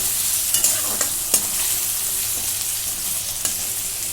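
Tomato, chili and onion sautéing in a pan for dal khichdi, with a steady close sizzle and a few sharp scrapes and clinks as the mixture is stirred.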